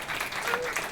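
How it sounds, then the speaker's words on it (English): Audience applause at a stand-up comedy show, a soft, steady wash of clapping from the crowd, faint and somewhat distant, with a voice briefly audible over it. "Round of applause if you've gotten lottery tickets in your birthday card before"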